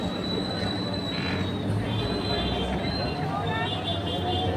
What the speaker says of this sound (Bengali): আমাদের ট্রেনটা আবার এখান থেকে ছেড়ে দিয়েছে তো